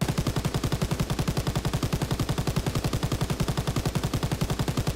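An MG42 machine gun fitted with a drum magazine fires a sustained, rapid stream of shots in Call of Duty WWII, each loud report blurring into a dense mechanical roar with no pauses.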